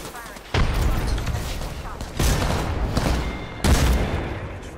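A grenade blast and bursts of gunfire in Apex Legends hit as three sharp, loud impacts, each followed by a decaying rumble of shots and debris. Voices talk over the combat.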